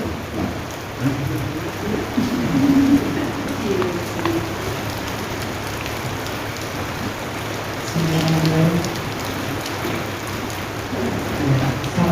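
Steady rain falls in a dense, even hiss of drops on surfaces, continuous through the whole stretch, with faint low rumbles beneath and no talking.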